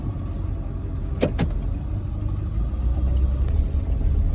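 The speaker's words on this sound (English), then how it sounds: "I thought the trans was slipping in the truck. Just had it in neutral." A hotshot truck's engine idles and revs in neutral on a dead-end road, a steady low rumble that swells toward the end, with a couple of sharp mechanical clicks.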